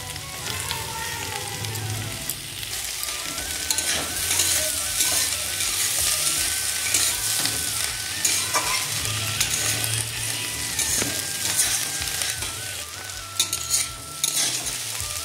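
Cauliflower and potato fry in a pan, a dense, even sizzle running throughout with occasional scrapes and clinks from a stirring utensil.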